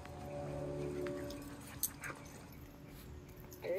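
Puppies whimper and yip softly outdoors, faint thin whines and a few short cries spread over a few seconds against quiet background noise.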